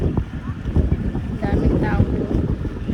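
Steady wind buffets the microphone at a busy seaside promenade at sunset, a constant low rumble with faint voices of a crowd mixed in.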